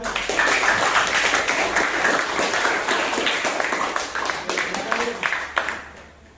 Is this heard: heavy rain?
no